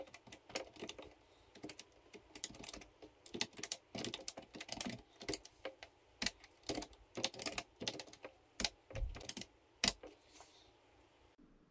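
Fingers tap across the keys of a TRS-80 computer keyboard, an irregular run of close, crisp clicks in bursts with brief pauses, heard alone.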